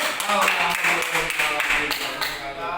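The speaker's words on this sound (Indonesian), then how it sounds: "tepuk tangan buat kita semua ya" Students clapping together in a classroom, a dense burst of hand claps lasting a few seconds at close range, mixed with some voices.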